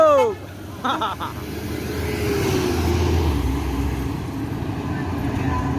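A large intercity bus engine rumbles steadily up close as it pulls into a bus terminal in West Sumatra, with a hiss of air brakes near the start and a continuous low drone of traffic.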